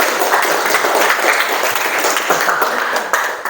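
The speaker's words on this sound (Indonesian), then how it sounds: "silakan tepuk tangan untuk kalian." Students in a classroom clap their hands together in a steady, dense burst of applause, loud and close, fading slightly at the end.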